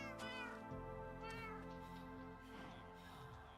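A cat meows repeatedly inside the Minecraft video game, its drawn-out cries clear and fairly loud over a steady layer of game music and background sound.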